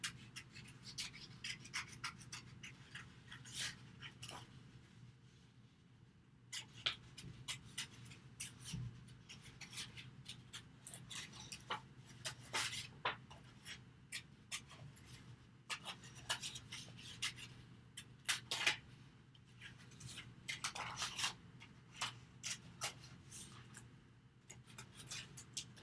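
Paper shapes being cut out with scissors for a positive and negative collage design, giving a steady run of soft snips and rustling rubs, close and quiet, with no talking.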